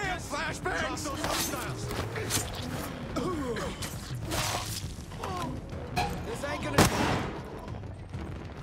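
Flashbang blasts and gunfire in the video game Ghost Recon Breakpoint, dense overlapping shots and bursts through a chaotic firefight with one sharp loud crack near the end, under shouted voices and gasps.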